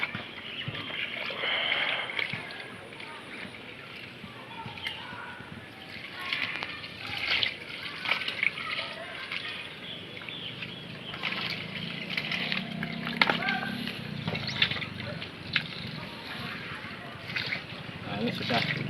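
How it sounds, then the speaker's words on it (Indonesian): Trash fish being stirred by hand in a bucket of water to rinse them, with repeated close sloshing and splashing of water, under a person talking. "Nah, ini kita aduk lagi seperti tadi aja, berulang kali sampai airnya bersih."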